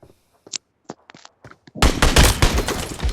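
Gunfire erupts in a PUBG match: a few scattered sharp shots come first, then a loud, dense burst of rapid fire and explosive cracks fills the rest, close and overwhelming.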